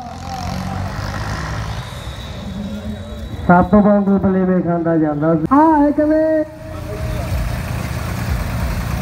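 Tractor pulling a loaded trolley in a contest at Mehal Kalan, Barnala, a steady loud engine drone under a loud announcer's voice.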